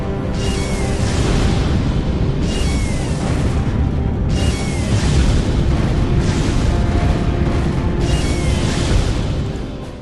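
Shield blast visual effect explosion: a run of heavy, booming bursts recurring every couple of seconds over a dense, continuous rumbling roar, loud and close with no voices.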